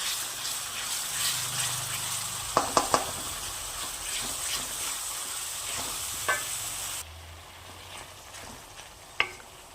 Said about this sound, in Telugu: ఆయిల్ పైకి వచ్చే వరకు వేగనివ్వాలి